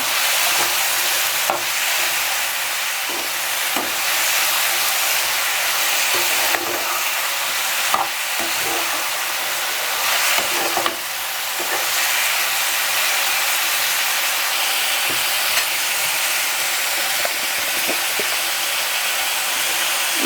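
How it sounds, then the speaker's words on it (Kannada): Ridge gourd frying in a pan with a steady loud sizzle, broken by repeated scraping knocks of a spatula stirring the pieces, continuous for about twenty seconds with no talking. "ಹೀರೆಕಾಯಿ ಹಾಕ್ಬಿಟ್ಟು ನೀಟಾಗಿ ಒಂದ್ಸಲ ಎಲ್ಲನೂ ಮಿಕ್ಸ್ ಮಾಡಬೇಕಾಗುತ್ತೆ"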